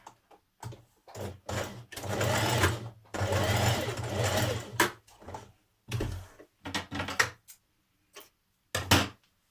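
A domestic sewing machine runs a 1.5 cm seam allowance on a New Look 6602 dress, in two sustained whirring bursts followed by a series of short stop-start stitches, close and clear, with no talking.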